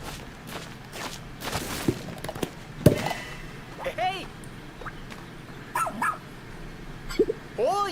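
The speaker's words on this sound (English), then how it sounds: "This is a perfect job for a rescue pup. They're known for being excellent diggers." Rescue pup Archie digs and barks in the Pikmin 4 video game, with a few short barks and yips standing out over soft scratchy digging and background game music.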